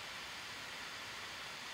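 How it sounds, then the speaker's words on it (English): A GMKtec NucBox M6 mini PC's cooling fan under benchmark load, a steady faint broadband whoosh with no change in pitch or level. "The M6 in the Grid Autosport benchmarks, in both 45 and 65 watt modes, gives around 48 decibels of noise"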